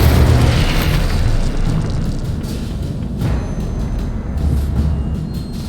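The Incendio fire spell from the game Hogwarts Legacy goes off as a loud, sustained roaring burst of flame. It rumbles heavily and keeps going with a few swells, and nobody speaks.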